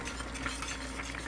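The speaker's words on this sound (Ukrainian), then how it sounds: "Перемішаю" A spoon stirs vegetables in a bowl for a few seconds, a soft steady scraping and rustling under a constant low background hum.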